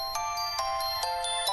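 A mobile phone ringtone rings out alone, a bright electronic melody of short repeating tones in a quick, even rhythm, close and clear.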